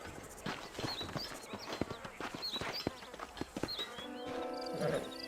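Horse hooves clip-clop in the Red Dead Redemption video game, a steady walking rhythm of hoofbeats close by, with bird-like chirps above and a faint snort or whinny near the end.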